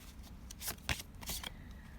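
Tarot cards shuffled and drawn by hand: a couple of crisp riffling bursts and soft papery slaps, close and fairly quiet, with no voices.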